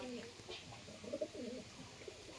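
Domestic pigeons, a pair kept for sale, give soft low cooing calls close by, with a few brief bursts over steady background noise.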